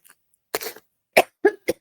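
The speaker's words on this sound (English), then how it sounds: "I know when now I'm going to start coughing and not be able to stop." A woman coughs four times, one longer rasping cough followed by three sharp short ones in quick succession, close and loud against silence.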